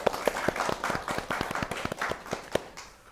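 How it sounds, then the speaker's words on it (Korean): An audience at a panel discussion on disability and early childhood care breaks into steady applause to welcome a panelist, with continuous clapping that tapers off toward the end. "큰 박수로 환영해 주세요."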